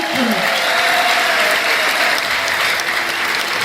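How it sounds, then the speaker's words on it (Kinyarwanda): Applause from a crowd at a gathering, a dense, loud and steady roar of clapping that fills the whole stretch, with a voice briefly rising above it near the start. "Abantu babishaka bongera Imana amashyi"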